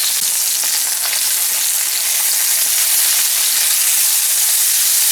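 Morel mushrooms and shallots sautéing in melted butter, a loud, dense, continuous sizzle close to the pan with faint stirring ticks and no talking.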